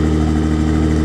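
A pink Jaguar F-Pace with light damage runs with a steady, loud close engine and exhaust drone, a continuous low rumble throughout.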